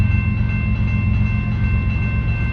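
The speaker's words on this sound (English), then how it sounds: "But instead, the train started moving again." CN local freight L501 starts moving again in a siding, giving a steady low rumble of the train rolling nearby with faint tonal hums, no voices.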